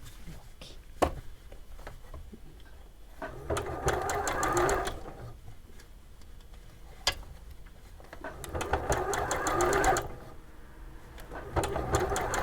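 A sewing machine stitches furry fabric for a giraffe cushion guard in two quick bursts of rapid needle clatter, separated by quiet handling clicks, fairly soft and close.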